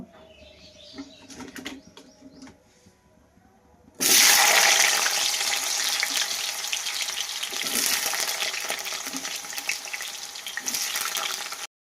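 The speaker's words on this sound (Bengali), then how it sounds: "আমার কড়াইয়ে তেল দেওয়া হয়ে গেল। তো আমি এখন আলুগুলো ছেড়ে দেব।" A loud, steady hiss of potatoes frying in hot oil in a wok bursts in suddenly after quiet clattering, then continues crackling without pause.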